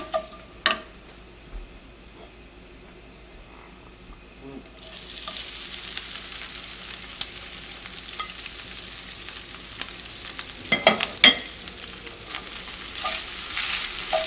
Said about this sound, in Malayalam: തേങ്ങ വറുത്തെടുക്കുമ്പോൾ പ്രത്യേകം ശ്രദ്ധിക്കുക, തേങ്ങ നന്നായിട്ട് മൊരിയണം കേട്ടോ.